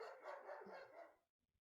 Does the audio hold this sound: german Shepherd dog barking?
yes